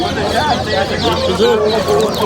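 Chickens cluck and chatter loudly and close by at a bustling poultry bird market in Namangan, with people talking over the birds throughout.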